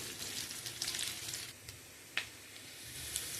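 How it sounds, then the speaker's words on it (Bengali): Onions frying in oil with panch phoron and dried chilli, a close, steady sizzle and hiss with a few small pops and stirring scrapes, no voices. "পাঁচফোড়ন, শুকনো লঙ্কা দিয়ে এর পেঁয়াজটা ভেজে নিচ্ছি।"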